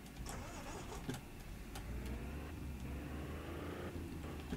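A car in Game Store Simulator starts up and pulls away, the engine catching after a few clicks, then a steady mid-pitched hum that builds gently as it drives off, fairly quiet throughout.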